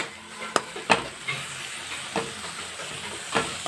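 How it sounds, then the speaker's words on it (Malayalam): A spoon stirs steamed carrot and grated coconut in a pan, with faint sizzling and steam under several sharp scraping knocks, no talking. "അപ്പം ഇത് നമുക്കൊന്ന് നന്നായിട്ടിനി ഇളക്കി കൊടുക്കാം"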